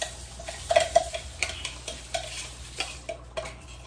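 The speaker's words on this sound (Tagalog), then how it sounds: "Maingay yata ang kutsara." A metal spoon scrapes and stirs in a pan of frying garlic for chicken inasal, with a string of close, uneven clinks and scrapes over a steady low sizzle.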